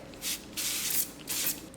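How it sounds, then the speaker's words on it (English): A makeup setting spray mists in three quick, close hissing bursts with short pauses between them, alone and with no talking. "I'm gonna do 1 pump of this, a little bit of like a makeup spray"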